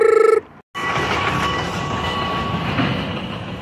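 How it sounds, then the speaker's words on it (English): A train rolls past near the Oregon coast, a loud steady rumble and clatter of rail cars that fills the stretch after a short electronic beep and a moment of silence. "That's the train, y'all."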